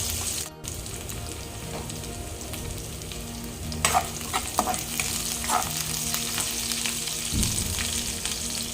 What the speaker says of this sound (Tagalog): ngayon po ay ilagay na natin yung bawang tsaka sibuyas. And then, inihos-nihos natin yan hanggang mag-brown na po siya.